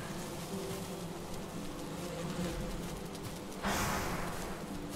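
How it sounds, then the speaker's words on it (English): Bees buzzing around hives in Valheim, a continuous close drone with a louder swell near the end, no talk. "So many bees, I don't even want to harvest all the honey."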